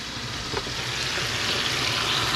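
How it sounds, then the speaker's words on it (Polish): Fish fries in a pan during a trip to Italy, giving a steady close-up sizzle and crackle of hot oil that continues evenly throughout with no talking. "Drugi się już smaży."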